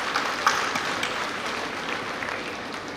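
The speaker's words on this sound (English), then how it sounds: "a well-deserved round of applause" At a Nitte University annual ceremony, the audience gives a round of applause: moderate, somewhat distant clapping with a few sharper claps near the start, continuing evenly and softly.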